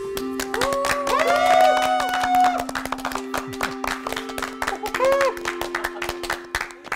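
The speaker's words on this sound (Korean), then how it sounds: "웬 환호?" Audience clapping and cheering at a lecture: a burst of applause from a crowd of hands, with people talking over and between it.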